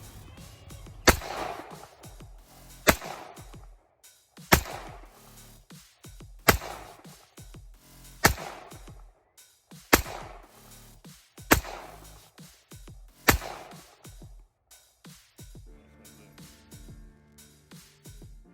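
A 1918 Colt 1911 .45 pistol fires a full magazine of eight rounds, sharp loud reports spaced about every one and a half to two seconds, each followed by a brief echo, ending with quieter handling clicks.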